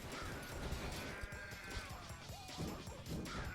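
Sheep bleat repeatedly in the chaotic game DEEEER Simulator, several wavering cries overlapping amid game noise and thumps, fairly loud with no talk.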